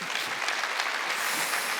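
Congregation clapping during a Korean church Sunday worship service, a steady, fairly quiet wash of applause from many hands lasting under two seconds.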